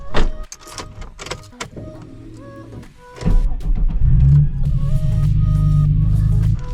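A Nissan 350Z sports car pulls away with a low, steady engine hum that rises and holds loud after a few seconds of small clicks and mechanical noises inside the cabin.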